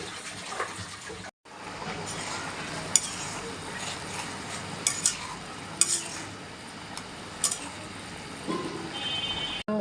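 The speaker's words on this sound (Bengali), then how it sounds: "মাংস কষায় রাখি।" Meat braised and stir-fried in a pan for haleem, with a continuous close sizzle and occasional scrapes and clinks of the utensil against the pan; no speech.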